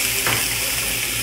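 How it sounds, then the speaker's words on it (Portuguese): Beef medallions grill in a very hot, thick aluminium pan, giving a steady close sizzle and hiss that runs unbroken through the short moment. "Porque a chapa tá ocupada, mas eu vou grelhar na panela aqui os medalhão"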